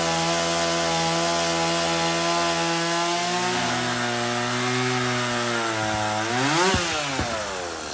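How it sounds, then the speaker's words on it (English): A big chainsaw cuts through wood for cribbing, its engine droning loud and steady throughout, the pitch sagging under load in the cut and then rising sharply as the chain frees near the end. "I got the big chainsaw."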